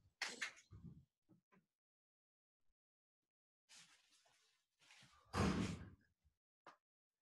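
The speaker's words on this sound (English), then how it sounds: "I've been hearing her door." Indoors, a door opens and closes as someone walks in, heard as a few sharp clunks and a louder thud separated by quiet gaps, somewhat distant and with no talking.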